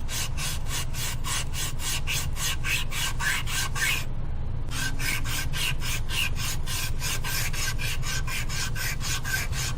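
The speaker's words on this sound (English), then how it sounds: "flex it. See how it starts to bend over and then bends completely over and starts sanding the back side of the louver?" Rapid rhythmic rasping of a flex sander on wooden louvers, close and continuous, with a brief pause partway through before the quick back-and-forth strokes resume.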